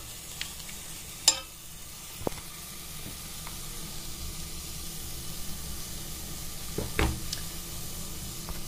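Green sorrel leaf curry (ambat chuka bhaji) stirred in a pan, with a soft steady sizzle and hiss under a few faint scraping clicks of the spoon.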